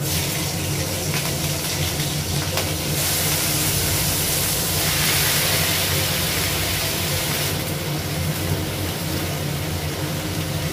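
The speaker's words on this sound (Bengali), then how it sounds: "তেল আর লাগাবো না, এই তেলে ঢেঁড়সটা ভাজা করবো" Okra frying in oil left over from frying aubergine in a home kitchen pan, with green chillies added: a loud, steady, hissing sizzle that runs unbroken from start to finish with no talking.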